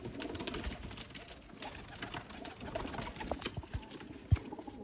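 Pigeons coo softly in the background amid faint rustling and scattered light knocks, with one sharper tap near the end; the sound is quiet and close.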